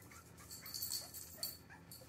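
A Cavalier King Charles spaniel whimpers in soft, high, breathy whines that come in several short bursts close by, with no talking.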